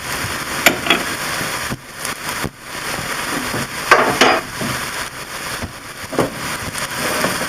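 Peas and fresh thyme stirred gently in a pot over heat, a steady sizzle and crackle with a few soft spoon scrapes and knocks, close up, no talk.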